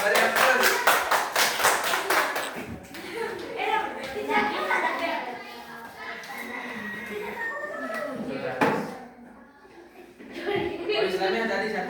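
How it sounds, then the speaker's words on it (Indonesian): A classroom of students bursts into enthusiastic applause during a team tournament quiz game, a dense rattle of clapping at the start, followed by children chattering and laughing as a teacher talks over the noise. "Beri aplaus."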